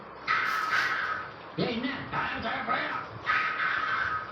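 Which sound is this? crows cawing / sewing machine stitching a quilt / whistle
crows cawing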